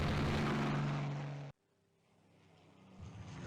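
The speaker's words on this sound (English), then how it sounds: "More of our aircraft approaching the battle cruisers." Aircraft drone in the naval game Rule the Waves 2, a steady propeller hum that cuts off abruptly, then a fainter engine sound swelling gradually as planes approach battle cruisers.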